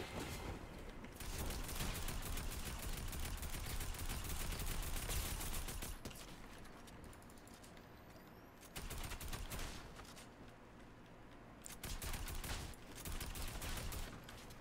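Rapid bursts of automatic gunfire from a new gold weapon in the battle royale game Fortnite, loud dense volleys separated by brief pauses, with a few sharper single shots between them.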